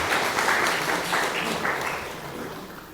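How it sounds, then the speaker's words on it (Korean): A church congregation claps in welcome for a visiting pastor, a dense burst of applause that starts loud and gradually tapers off with no speech over it. "우리 환영의 박수 한번 보내드리도록 할까요?"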